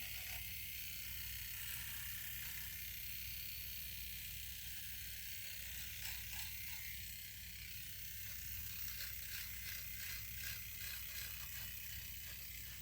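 Steady Flowbee electric clippers buzz continuously at close range, a constant whirring drone with slight rattling, and no talking.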